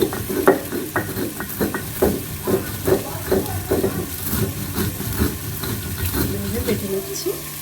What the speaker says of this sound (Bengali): এইভাবে মশলাটা বেটে নিতে হবে।